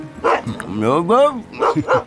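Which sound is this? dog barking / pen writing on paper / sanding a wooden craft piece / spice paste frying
dog barking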